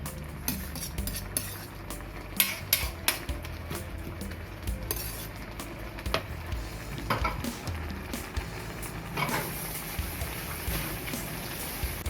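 Meat is stirred in a pan with chili, garlic, lemongrass and kaffir lime curry paste, giving a soft sizzle under repeated scraping and clinking of a utensil against the pan.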